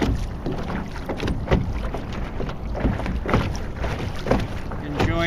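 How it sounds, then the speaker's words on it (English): A sailboat under way on open water, with wind buffeting the microphone and water splashing and lapping against the hull in irregular surges, fairly close and steady. "See if we can get underway here and do a little bit of sailing."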